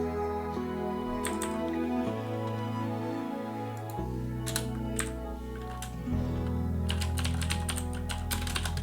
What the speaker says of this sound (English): I'll be mostly typing silently